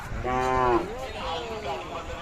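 A single deep, drawn-out moo from a large Khillar cow at the Umadi fair, close by, followed by a fainter lowing call trailing off amid background murmur.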